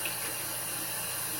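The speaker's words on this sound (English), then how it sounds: "So I'm just going to wet my face." Tap water runs steadily into a sink while a face is wetted, a soft continuous rush at low level with no talking.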